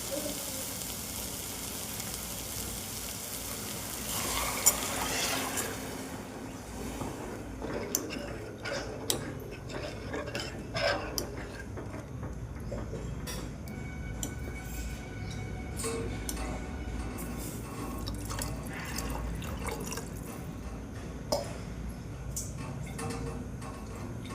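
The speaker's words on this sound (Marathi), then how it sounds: "आता पाणी टाकायचं" Water poured into a pan of frying masala usal, a burst of hissing sizzle at first that settles into quieter bubbling, with scattered ticks and clinks of a spoon against the pan throughout.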